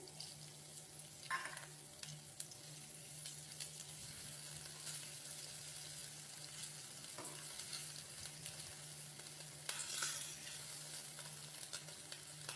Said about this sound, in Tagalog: Gisa natin ng 5 to 10 minutes